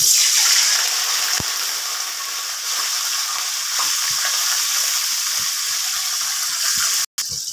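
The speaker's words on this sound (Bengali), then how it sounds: "মৌরি ফোড়ন, একটু জল দিয়ে দিলাম" Fennel seeds tempering in a hot pan sizzle loudly and steadily after a splash of water goes in, a dense close hiss with faint stirring clicks underneath and a brief cut near the end.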